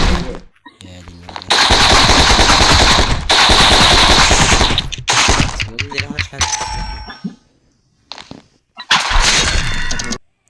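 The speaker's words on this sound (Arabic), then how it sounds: "انا بضرب طلقة ما بتخيبش" Gunshots in the video game My Friend Pedro, loud rapid bursts of automatic fire with smashing, breaking impacts, split by short silent gaps and ending with a final burst.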